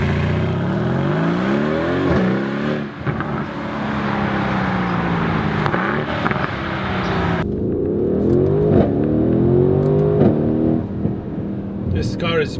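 A Mercedes-AMG GLC 63 S Coupe V8 engine revs loud and close, rising and falling in repeated throttle blips with a steady exhaust drone, while a person talks over it.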